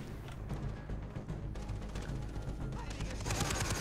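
An AK rifle fires in Far Cry 3: dense, rapid automatic shots blur into a continuous loud clatter over a heavy rumble throughout.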